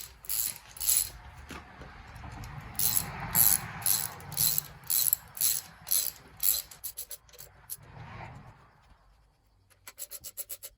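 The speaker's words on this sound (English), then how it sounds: "we're gonna be tightening the nuts evenly so we don't bend the shaft" Ratchet tightening the rocker shaft nuts on a 1975 Triumph TR6 engine, a series of quick rasping clicks in repeated bursts with short pauses, close and alone.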